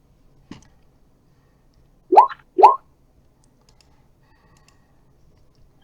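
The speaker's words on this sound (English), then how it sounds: "I rolled a dice, but he rolled a dice." Dice rolled during a tabletop Dungeons & Dragons session: two quick close clattering bursts of a die tumbling on a hard surface, with a faint click before and after and near silence between them.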